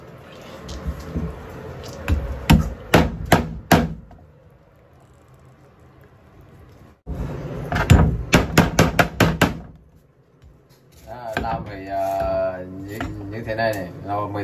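Snail meat is chopped with a knife on a board in quick bursts of sharp, close thuds, three separate flurries with quiet gaps between them. Someone speaks Vietnamese over the last stretch.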